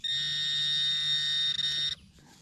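A metal detector sounds over a buried target on a beach, one loud, continuous, steady electronic tone lasting about two seconds that cuts off abruptly into quiet.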